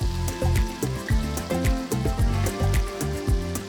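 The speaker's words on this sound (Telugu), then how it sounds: "అర టీ స్పూన్ ఇంగువ సన్నగా తరిగిన అల్లం పొడవగా కట్ చేసిన నాలుగు పెద్ద వెల్లుల్లి రబ్బలు వేసి లైట్గా వేయించాలి" Garlic, ginger and asafoetida frying in hot oil for Bombay chutney, a busy crackling sizzle with rhythmic bubbling pulses, close and fairly loud.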